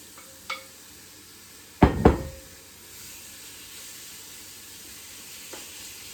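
Breaded chicken pieces laid in a single layer into a hot pan: a brief loud clatter and burst as they go in, settling into a faint, steady sizzle that fills the rest of the clip.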